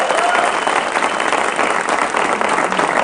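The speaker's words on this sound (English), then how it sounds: "I completely second those who were just applauding" A television studio audience applauds steadily and loudly throughout, a dense, continuous wash of clapping with no talk heard over it.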